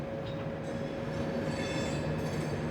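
A Duronto Express passenger train, the New Delhi–Mumbai Central service, runs steadily on the rails with a continuous loud rumble and a constant hum, with no talking over it.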